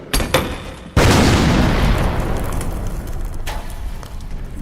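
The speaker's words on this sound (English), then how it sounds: "Soldiers, throw your grenades!" Grenade explosions in a Warhammer 40k animation: a few sharp pops up front, then one loud, heavy boom that rumbles on and decays slowly, with a later crackle.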